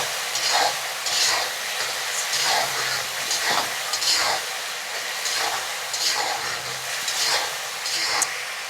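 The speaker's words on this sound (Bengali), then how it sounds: "এখন আমি এটা আরেকটু ভেজে নিব।" Onion, garlic and tomato paste sizzling in a frying pan for egg bhuna, a steady close hiss broken by regular scraping stirs of a spatula, with no talking.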